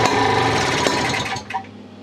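A British Seagull two-stroke outboard engine runs with a loud, rough, buzzing clatter up close, then stutters and dies away near the end of a brief run.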